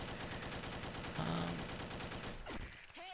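A UMP-45 submachine gun fires in a video game, producing dense, rapid automatic fire as a continuous rattling stream of shots at moderate volume. A brief tonal blip sounds partway through.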